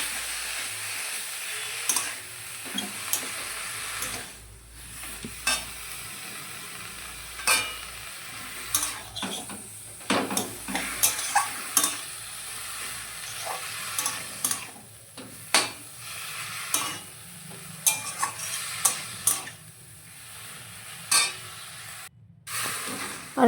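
Bottle gourd and its leaves, steamed beforehand, cook in a pan on a gas stove. A soft, steady sizzle runs under repeated scraping and stirring strokes of a utensil against the pan.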